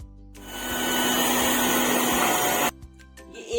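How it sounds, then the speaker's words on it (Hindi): An electric beater whipping coffee, sugar and a little water for cold coffee: a loud, steady motor whir that ramps up, holds for a couple of seconds, then cuts off abruptly, followed by faint clinks. "ये 1 मिनट तक मैंने इसे बीट की है।"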